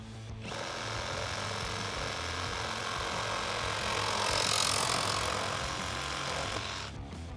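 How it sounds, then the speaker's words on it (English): Milwaukee M18 FUEL Sawzall reciprocating saw cutting through PVC drain pipe, a loud close buzzing rattle that runs steadily for several seconds, swelling slightly midway, then stops. "cut our new PVC pipe down to size. For this, I'm going to use the M18 FUEL SAWZALL"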